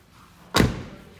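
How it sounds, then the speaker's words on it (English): A single dull thump as a car door is shut, short and fairly close, after a quiet moment and fading quickly. "then you can close your door."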